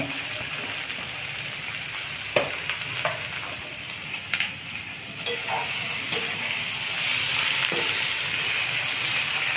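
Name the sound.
fenugreek leaves being sautéed in a pan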